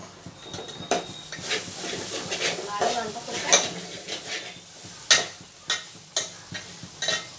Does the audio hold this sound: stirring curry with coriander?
yes